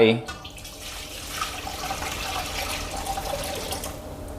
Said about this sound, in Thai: เทน้ำส้มสายชูผสมเกลือลงไป